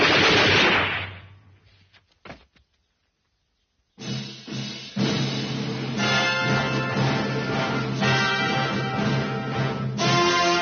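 A rifle volley fired in the 1967 historical western Custer of the West, a loud sharp blast that fades out into silence, followed by a stretch of orchestral music.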